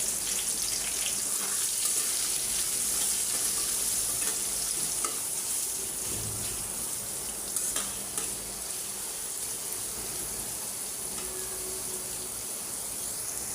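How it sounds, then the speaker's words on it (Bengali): Chopped onion fries in hot oil with cinnamon and bay leaf, a steady close sizzle broken by occasional stirring scrapes and pops, going on without any talking. "এখন দিয়ে দিলাম দারচিনি তেজপাতা দিয়ে দিলাম পেঁয়াজ কুচি"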